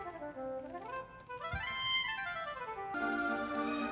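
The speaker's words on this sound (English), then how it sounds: "This is the sound of the oboe." An oboe sample in PlayStation music software for the 2000 PS1 game Lunar 2 Eternal Blue Complete, sounding as a sliding melodic synthesized line with a bright tonal burst near the end, played alone without talk.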